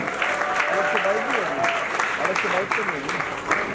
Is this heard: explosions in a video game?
no